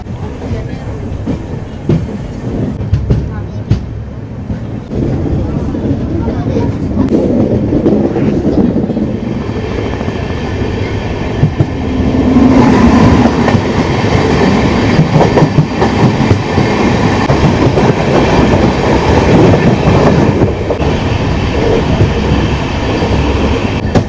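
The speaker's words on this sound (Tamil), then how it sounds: "ரேணிகுண்டாவில் லோக்கோ வந்து பேக் சைடு அட்டாச் பண்ணதுக்கப்புறம் நம்ம வந்து கிளம்பியாச்சுங்க." The Saptagiri Express, a new LHB train, runs from Renigunta toward Tirupati, heard from inside the coach as a loud, continuous rumble of wheels with clickety-clack over the rails that builds as the train gathers speed.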